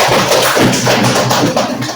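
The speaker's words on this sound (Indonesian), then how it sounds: "beri tepuk tangan untuk kelompok 4" A classroom of students claps for group 4 after their presentation, steady dense applause from many hands at close range throughout.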